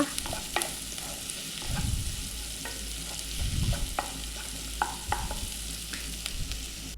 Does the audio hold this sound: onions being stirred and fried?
yes